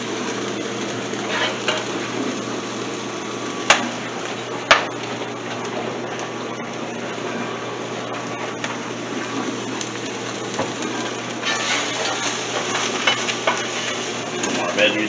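Meat frying in a pan, a steady close sizzle that runs the whole time with a couple of sharp utensil knocks and a louder crackling swell near the end.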